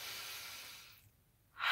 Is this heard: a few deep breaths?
yes